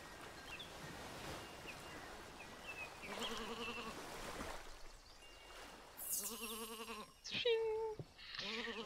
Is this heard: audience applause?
no